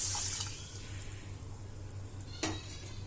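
Water runs from a tap into a vessel of red rice, black urad dal and fenugreek, a soft continuous trickle with a low hum and a brief clatter near the end.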